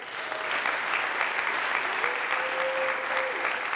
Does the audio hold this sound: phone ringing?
no